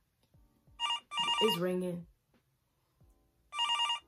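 A telephone bell rings in short repeated bursts, a pair of loud electronic trills separated by a pause, with a voice speaking between the rings.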